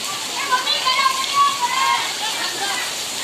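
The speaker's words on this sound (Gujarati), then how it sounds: "જો કેવો વરસાદ આવે છે." Heavy rain with hail in Bhavnagar pours in a steady, dense roar of water, with a voice talking faintly over it.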